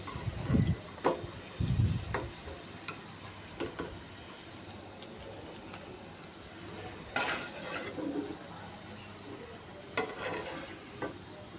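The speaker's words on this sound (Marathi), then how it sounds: "आता या माझ्यापुरतीच मी तळते" Kothimbir vadi, coriander fritters, frying in hot oil until crisp: a soft, steady sizzle with louder bursts of crackle and occasional clinks and scrapes of a utensil, with no talking.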